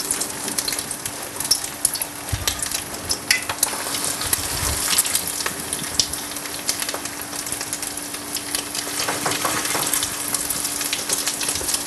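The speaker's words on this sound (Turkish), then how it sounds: "Kadın budu köftemizi kızartıyoruz şimdi." Kadın budu köfte meatballs fry in hot oil, a dense, steady sizzle with crackles and pops, close and continuous throughout.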